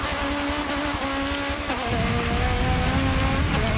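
Nissan Nismo GTR LM GT3 race car engine in Forza Motorsport 7 on a rainy track, a loud continuous droning roar that shifts pitch midway as the car changes gear, with no talking.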